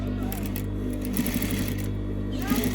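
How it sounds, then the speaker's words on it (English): A sewing machine runs steadily with a fast, even, close whir as it stitches the fabric band of a Kimono Ankara jacket, with talk faintly over it. "So this is me stitching it over."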